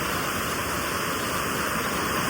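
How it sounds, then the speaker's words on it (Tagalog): Kaparkan Falls in the Philippines roars as a steady, dense rush of falling water, loud and close with no break or voices. "Ang ganda ng Kaparkan Falls"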